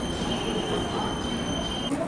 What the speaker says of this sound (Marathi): आणि आपला अरायवल झालाय आता बोंगाईगाव रेल्वे स्टेशनला.